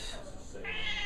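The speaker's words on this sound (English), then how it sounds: "My cat." A cat meows a few times at close range, with a rising plaintive call against a low background hum.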